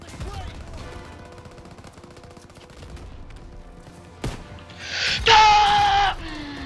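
Flak gun fire in the World War II shooter Call of Duty WW2, a sharp blast near the middle followed by a loud burst of rapid gunfire over steady battle noise, with a brief voice near the start.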